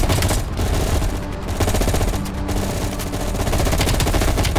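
Rapid automatic gunfire in Call of Duty: Black Ops Cold War, dense loud bursts of shots rattling almost continuously with brief dips, close and dominant throughout.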